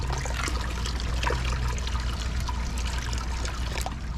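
Sparge water trickles steadily through the grain bed while an Irish stout with flaked oats is brewed, a continuous close liquid dribble with no talk.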